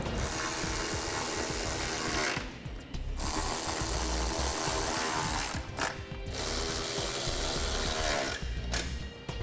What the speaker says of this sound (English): Now we can just put our bolts right back in.